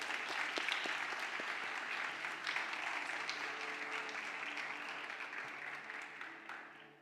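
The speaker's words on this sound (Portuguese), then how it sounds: "Merece uma salva de palmas aí." A church congregation applauds during a Sunday service, a dense round of clapping that stays full and then gradually tapers off toward the end, with faint voices mixed in.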